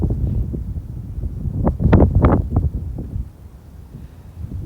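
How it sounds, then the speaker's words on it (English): Blizzard wind in a northern winter storm gusts and buffets outdoors, swelling into a loud roaring rush in the middle before easing to a steadier low blow. "Ooh, the wind!"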